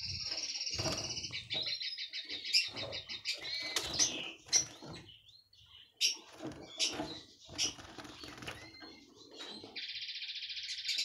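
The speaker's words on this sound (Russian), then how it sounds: "Ну вот, видите, прыгают, чирикают, и все у них нормально." Caged goldfinches, canaries and redpolls chirp and twitter while hopping about, with bursts of high trilling song, scattered short calls and soft fluttering and scratching, fairly close and moderately quiet.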